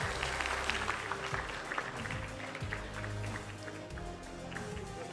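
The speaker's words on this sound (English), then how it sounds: "Please give a big round of applause again to our moderators and speakers." Applause from a conference audience for panel moderators and speakers at a security cooperation forum, a steady wash of many hands clapping throughout with some background noise and faint voices.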